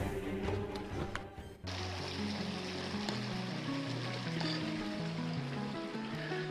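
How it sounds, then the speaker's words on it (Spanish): The San Miguel river flows near the old Codorachi hacienda in Sonora, a steady broadband water rush that fills the clip continuously at close range, with a few brief knocks at the start. "El río San Miguel"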